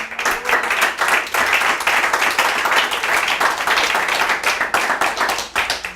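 Church congregation clapping and applauding together, a loud, dense, continuous wash of claps with fast rhythmic hand strikes filling the room, no talk over it.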